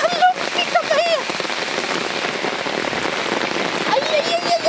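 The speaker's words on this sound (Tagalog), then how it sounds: "ang lakas na ulan" Heavy rain pours down steadily, a dense, loud wash of drops striking surfaces, with a voice speaking briefly at the start and again near the end.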